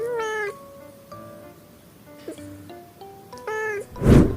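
A cat gives a string of odd, warbling meows of varying pitch, some rising and some clipped short. They are close and fairly quiet, and end in a sudden rough, breathy burst.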